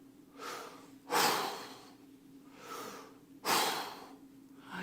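A man imitates someone struggling for air, with two rounds of slow, raspy panting breaths, each followed by a sharper, louder gasp, heard close and alone.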